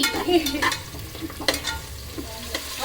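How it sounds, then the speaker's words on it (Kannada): Tomato masala frying in a pan for egg biryani, stirred with a few scraping strokes over a soft sizzle, moderately quiet and without talk. "ಟೊಮೊಟೊ ನೀಟಾಗಿ ಬೇಯೋವರೆಗೂ ಕೈ ಆಡಿಸ್ಕೋಬೇಕು"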